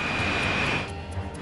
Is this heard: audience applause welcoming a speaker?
no